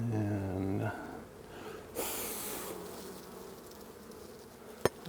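Honeybees buzz around an open beehive during an inspection, a low, steady hum close by that fades under rustling handling noise, with one sharp knock near the end.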